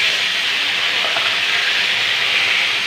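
Garlic paste frying in hot oil makes a steady, loud, hissing sizzle that holds evenly throughout, with no voices.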